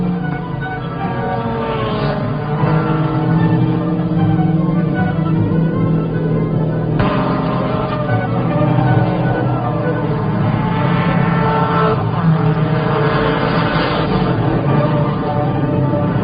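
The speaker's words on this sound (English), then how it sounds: "Here's the end of the race. They're tired, dirty cars at this point." Vintage Corvette race cars near the end of the 24 Hours of Le Mans, their engines droning steadily and continuously with tonal harmonics and passing swells, a loud mechanical roar with no speech.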